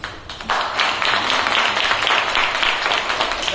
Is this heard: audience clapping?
yes